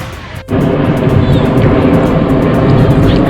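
A steady, loud roar of an airplane passing overhead on the flight path at Ko Olina, Hawaii, a broad rumble that holds constant throughout after a brief quieter start.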